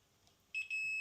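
Multimeter continuity beeps on a GHD Gold S7N261 hair straightener heater: two short close tones followed by a sustained steady beep, clear and near.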